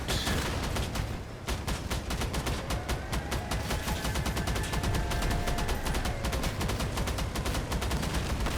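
Cyclone machine guns hammer away in a Crossout vehicle battle: a loud, relentless stream of rapid shots with only one brief gap near the start.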